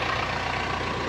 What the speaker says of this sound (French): Voilà, le moteur est démarré.